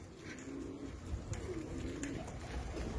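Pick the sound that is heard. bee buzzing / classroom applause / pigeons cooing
pigeons cooing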